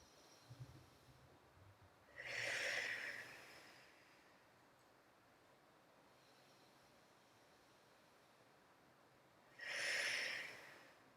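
Two slow, deep breaths during a yoga child's pose, each a soft airy rush of about a second, heard close and alone against a quiet, hissy room with a long pause between them.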